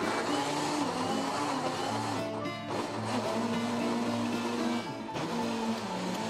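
Electric blender whirring as it mixes tarama ingredients, bread soaked in liquid, in a home kitchen; a loud, steady motor drone runs throughout, dipping briefly twice as the load shifts.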